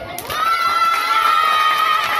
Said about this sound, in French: Mais applaudissez-le.